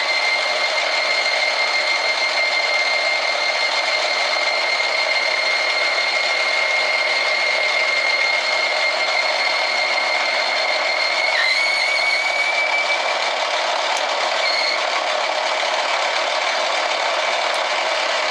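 Metal lathe with a carbide-tipped tool turning a steel barrel band for a Crosman 2240 SS air pistol at about 350 RPM, giving a steady, loud whine with bright high tones and a brief pitch shift near the middle; no speech.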